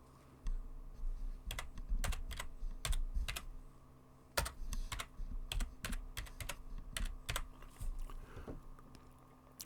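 Rapid typing on a computer keyboard while writing notes in the Obsidian app, with dense, irregular clicks and occasional heavier key strikes, close and steady for the whole stretch with no voices.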